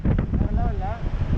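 Strong cyclone wind at the sea in Chennai buffets the microphone with a loud, rumbling roar, heard close and continuous for a brief moment.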